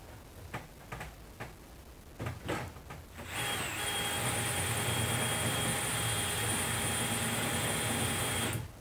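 A power drill whirs steadily for several seconds at close range after a few sharp knocks, drilling into a bow held in a bow press, its high motor whine holding level until it cuts off.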